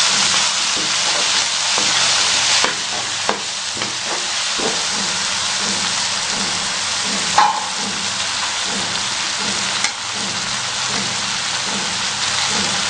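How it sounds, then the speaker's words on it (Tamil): Brinjal poriyal with chili powder and garam masala sizzles and fries in a pan, a constant crackling hiss broken by several scraping stirs and a couple of sharp clatters, close and alone without talk. "போட்டு நல்லா வதக்கணும்."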